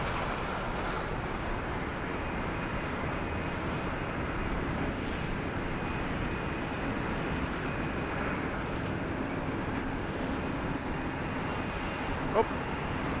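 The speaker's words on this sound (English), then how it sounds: "we've got our FedEx 77 just flying overhead the field" A FedEx Boeing 777 jet passes overhead at Sydney Airport during a thunderstorm, a steady broad engine roar holding at even loudness throughout, with no talk.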